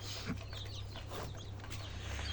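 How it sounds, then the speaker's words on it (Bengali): Native desi chickens cluck softly and intermittently during feeding, faint and somewhat distant over a low steady hum, with no talking. "আমি এখন মুরগিকে খাওয়াচ্ছি"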